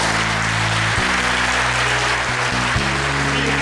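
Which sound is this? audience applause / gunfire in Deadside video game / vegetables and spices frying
audience applause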